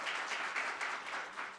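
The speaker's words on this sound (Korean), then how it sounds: "다시 한번 박수 좀 부탁드리겠습니다." A short burst of crowd applause, many hands clapping steadily at moderate volume without voices.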